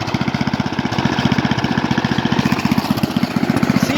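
A 1983 Briggs & Stratton 8hp Sno-Gard small engine idles with a steady, rapid, evenly pulsing chug, close and fairly loud, the beat holding regular throughout.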